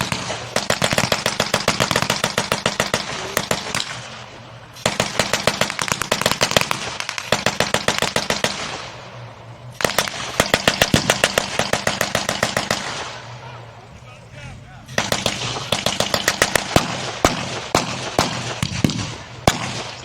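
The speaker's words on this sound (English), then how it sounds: "They've opened up with a 50 cal." .50 caliber machine gun fire rattles in long rapid bursts at a battle reenactment, four sustained strings of shots separated by short pauses, loud and sharp.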